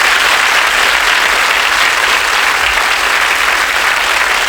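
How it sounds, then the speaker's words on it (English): A studio audience at a quiz game claps for the contestant pairs, a loud, even burst of applause held for several seconds with no voices on top. "Give them a round of applause."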